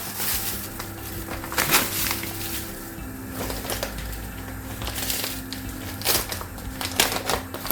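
Sugar, 1.5 kilos of it, pours onto grapefruit peel in a pot for marmalade, making gritty rattling and crunching bursts over a steady low background.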